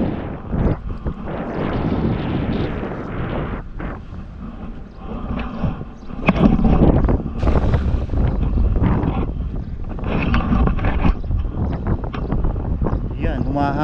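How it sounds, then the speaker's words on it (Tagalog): Wind buffets the microphone at sea during a fishing outing, a heavy, gusty roar that fills the clip while someone talks over it. "Humahangin pa po sa tenga, pasensya na po."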